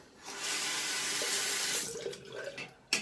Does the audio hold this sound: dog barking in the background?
no